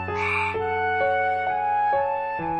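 A cartoon frog croaks in a rhythmic series of about five bright, tonal calls evenly spaced, sounding alone and close.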